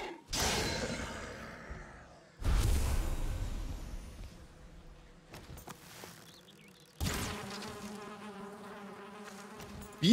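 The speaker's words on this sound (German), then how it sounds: "Bienen kann man nie genug haben, ne?" Bees buzz in the Valheim video game, a close, steady droning hum that swells in loud bursts with quieter stretches between.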